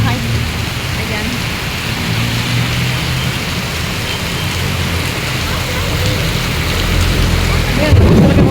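Heavy rain with thunder pours in a constant dense hiss with low rumbling underneath, growing slightly louder toward the end.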